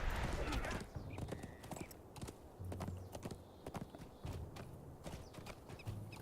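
Horse hooves clip-clop in a steady walking rhythm in the online game Lord of the Rings Online, with a whinny early on, all fairly faint with quiet game ambience and a voice talking over it.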